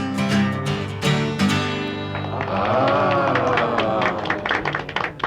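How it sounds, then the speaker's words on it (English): Canned applause track with laughter and cheering on a folk radio show, a crowd-like clatter rising behind a singing voice and music, with sharp clap-like streaks through the second half. "we had a little applause soundtrack in the background, laughing, cheering, and scratching"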